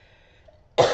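A single short, close cough, a leftover from the flu, breaks out abruptly after near silence.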